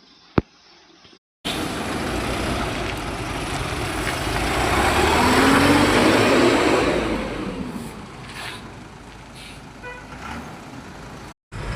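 Truck arriving at a D-Mart store in Nanded during heavy rain: after a short quiet stretch a broad rushing roar of rain and engine swells, peaks mid-way with a low rumbling drone, then eases off near the end.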